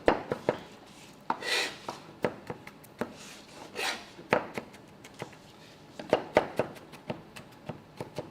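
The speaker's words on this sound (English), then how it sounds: "Do a little rocking motion, chopping motion, just get it really fine so people aren't biting into big chunks of garlic." A knife rocks through garlic on a cutting board, giving rapid, irregular close-up taps and chops with brief scraping rubs between bursts, and no voices.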